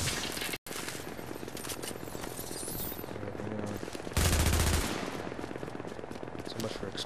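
A gun turret in The Division's Dark Zone fires in a dense, continuous, loud rattle that swells into a heavier burst partway through. No voices break through.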